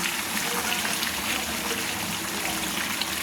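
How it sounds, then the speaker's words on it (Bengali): Mutton curry and potatoes simmering at a boil in a pot, a steady close bubbling and gurgling wash that stays even throughout, with no voices over it. "দেখুন কীভাবে মটনটা ফুটছে"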